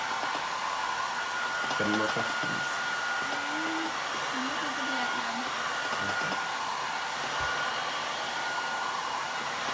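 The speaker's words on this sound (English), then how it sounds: "I'm going to give it a quick blast with the hairdryer just to set it up." A steady hair dryer blows throughout, a continuous airy roar, drying paint on glass, while a person speaks briefly over it.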